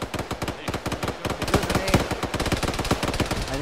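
Rapid automatic gunfire from the video game Arma rattles in continuous bursts, loud and close, with sharp evenly spaced shots packed tightly together and no talk over it.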